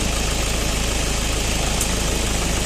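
Car engine running steadily during a brake vacuum check, a constant close idle hum with an even, slightly rough vibration throughout and no talking.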